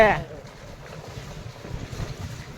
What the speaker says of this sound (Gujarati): કેવો કેવો વરસાદ પડ્યો પાણી પાણી થઈ ગયું